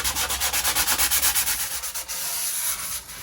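Wood sanded smooth by hand with fine-grit sandpaper during a guitar build: a rapid, even run of rasping back-and-forth strokes, close and loud, slowing into longer rubbing passes with no talking.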